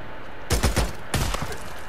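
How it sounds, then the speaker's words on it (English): Gunfire in the video game Days Gone: a quick burst of three or four loud, close shots, a short pause, then another shot trailing into echo. "Multiple shots have been fired"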